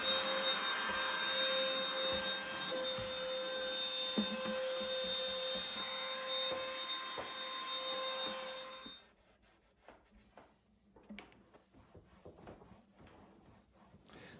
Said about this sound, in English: I need to vacuum out this drawer and then wipe it down.